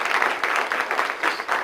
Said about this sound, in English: just another round of applause for Andrea's fine presentation this morning